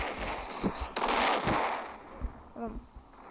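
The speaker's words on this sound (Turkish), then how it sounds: "Şimdi bombayla patlatmanın vakti gelmiş" Bomb blasts in the Roblox tower-battle game, a burst of loud, crackling explosive bangs at close range over a constant low rumble, with a voice speaking briefly near the end.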